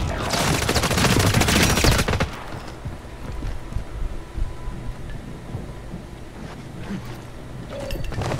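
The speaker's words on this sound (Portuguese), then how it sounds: "Estou levando tiro aqui!" A burst of dense rapid gunfire fills the first two seconds of a video game, loud and close, then gives way to scattered quieter shots and background game noise with little talk.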